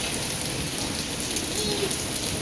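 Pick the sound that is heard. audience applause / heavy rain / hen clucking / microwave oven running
heavy rain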